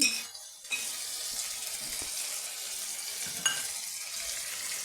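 Masala spice paste sizzles and hisses as it is sautéed and stirred in a pan with water, a steady frying crackle broken by a few soft knocks of the spoon.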